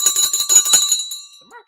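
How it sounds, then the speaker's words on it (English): A stock exchange closing bell rings in rapid repeated strikes for about a second, bright and sustained, then fades; a brief voice follows at the very end. "Time for the bell."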